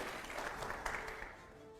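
Brief audience applause on a political question show, a dense patter of clapping with a few sharper claps that tapers off slightly toward the end.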